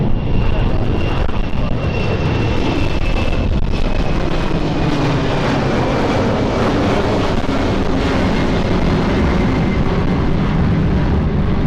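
An airliner on approach to land at London City Airport, runway 27, in gusty 18-knot wind, its engine roar steady and broadband throughout, with wind buffeting the microphone and faint radio voices beneath.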